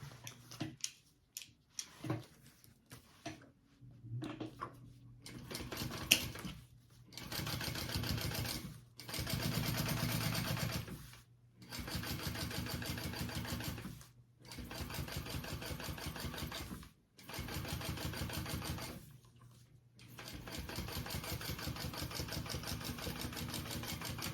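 A sewing machine top stitches a tote bag lining in repeated steady runs of two to three seconds, each separated by short pauses, close and even in loudness, with a low motor hum under the stitching.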